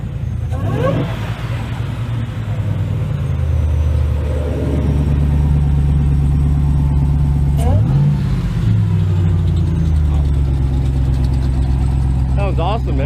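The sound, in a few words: Dodge Hellcat engine revving with cold air intake, electric cutouts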